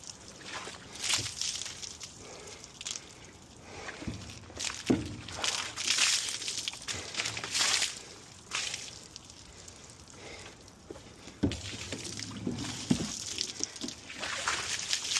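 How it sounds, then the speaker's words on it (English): Soapy water being rinsed over a fuel station, sloshing and splashing in irregular bursts close by, with some spraying and dripping throughout and no talking. "I'm just gonna rinse it off first with the soapy water."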